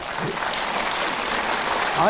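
Audience applause at a Buddhist dharma talk at Hwaamsa temple on Dosolsan, clapping for the monk Yeongjin; a steady, dense wash of many hands held evenly throughout, with no clear breaks.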